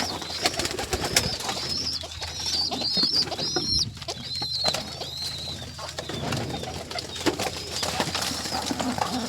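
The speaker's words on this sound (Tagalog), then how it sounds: "Pakain ng kalapate." Pigeons being fed coo continuously nearby, with soft overlapping calls, occasional wing flutters and a busy outdoor background running throughout.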